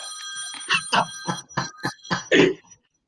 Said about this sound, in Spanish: Me da risa que haya sonado y que tenga teléfono fijo.